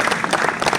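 Brief burst of audience applause at an insurance awards ceremony in a hotel hall, dense overlapping clapping from a large crowd, loud and close.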